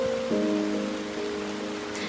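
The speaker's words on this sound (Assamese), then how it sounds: "বৰষুণ পৰিছে ইমান ধুনীয়াকৈ" Steady rain falls outdoors, a dense continuous patter on surfaces with a faint tonal hum running underneath, even and unbroken throughout.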